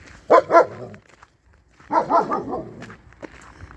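Outdoor dogs at night give two short bursts of loud barking close by, separated by a brief quiet gap, with faint rustling steps in between.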